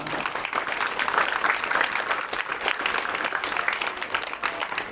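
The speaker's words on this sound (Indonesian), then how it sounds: "Tepuk tangan dulu untuk mereka semua." A school audience claps for the newly installed junior high student council at an induction ceremony, a dense, lively round of applause that stays fairly loud throughout with slight swells and no voices on top.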